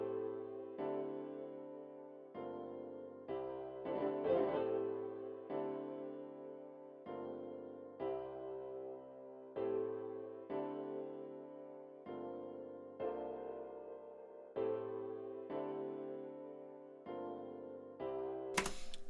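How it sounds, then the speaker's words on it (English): Lush, R&B-style chords made with stock plugins and thickened by chorus and a stereo enhancer play as quiet, sustained, evenly spaced chord changes in a slow repeating progression, with no voices. "really lush sounding chords, really R&B-ish"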